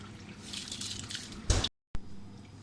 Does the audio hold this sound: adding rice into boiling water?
yes